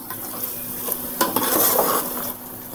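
Masala being stirred in a frying pan for Andhra-style stuffed brinjal curry, a steady sizzle with metal spoon scrapes and clinks against the pan, one louder scrape midway, no talk.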